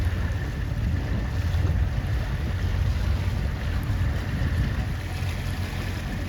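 Steady, roaring wind buffets a C420 sailing dinghy racing in a breeze of about force 7 to 8, with continuous low rumble of microphone wind noise and water rushing along the hull, loud and unbroken throughout.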